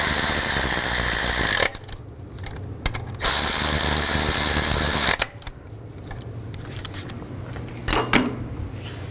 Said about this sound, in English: put the 2 screws in, tighten those down.